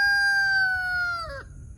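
A single rooster crows nearby, one long, loud, clear cock-a-doodle-doo that holds steady and then bends downward sharply at the end, followed by quiet outdoor background.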